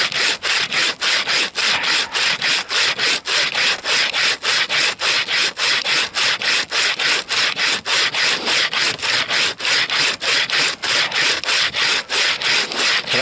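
Bow saw cutting through frozen wood in deep taiga frost, a loud, close, rasping back-and-forth stroke repeated at an even, brisk rhythm with short gaps between strokes.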